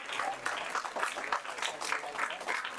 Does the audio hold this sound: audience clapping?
yes